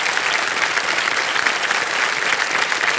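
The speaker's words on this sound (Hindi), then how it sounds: "तालियां बज जाए इनके लिए।" Studio audience applause on the KBC Season 16 game show set, a dense, steady wash of clapping from many hands that holds at an even level for about three seconds with no voices over it.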